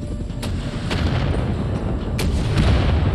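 Rockets fire and explode in Wolfenstein: The New Order's Gibraltar Bridge battle, with a steady, dense roar of booms and rumbling blasts and several sharp cracks punching through the continuous din of combat.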